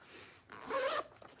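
A single quick pull of a black zipper on a knitting project bag, a short scratchy rasp up close, followed by a small click.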